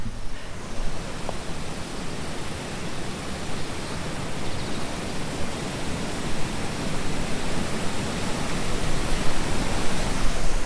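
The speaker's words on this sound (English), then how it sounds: "they've got a man-made waterfall here" A man-made waterfall on the Government Springs Trail in Greer, Arizona pours in a steady, loud broadband rush that holds constant throughout and swells slightly toward the end, close by and alone.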